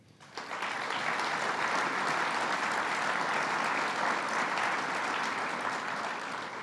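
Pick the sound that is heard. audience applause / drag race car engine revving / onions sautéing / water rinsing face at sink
audience applause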